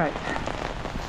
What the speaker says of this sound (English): Today is rainier than yesterday.